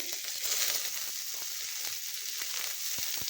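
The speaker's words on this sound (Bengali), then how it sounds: "এবার একটা বড় সাইজের পেঁয়াজ কুচি ভেজে নিচ্ছি। তারপর দিয়ে দিচ্ছি কয়েক কোয়া রসুন।" Chopped onion and a few garlic cloves frying in hot oil in a pan, a dense, continuous close sizzle with faint crackles throughout and no talking.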